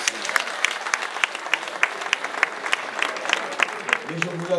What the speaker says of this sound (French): Applaudissez cette avancée.